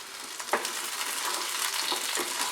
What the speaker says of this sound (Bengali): এবারে আমি হাই ফ্লেমে আরো 1 মিনিট সবজিগুলোকে ফ্রাই করে নেব।